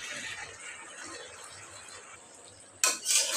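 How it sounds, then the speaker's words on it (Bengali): Malabar spinach greens being stirred in a cooking pot, soft scraping and shuffling of leaves, then a sudden louder clatter of utensil against the pot near the end. "এই যে আমি নেড়ে চেড়ে শাকগুলি মিশিয়ে নিলাম।"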